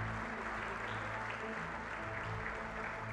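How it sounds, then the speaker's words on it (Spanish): A studio audience at a Spanish radio show in Elche applauds in steady, dense clapping that holds at an even level throughout, over a low hum with no voices. "Un fuerte aplauso para ellos."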